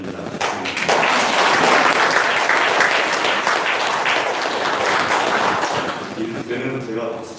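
A congregation at a Sunday morning church service breaks into full, steady applause, many hands clapping together for several seconds, then thinning out as a voice starts speaking near the end.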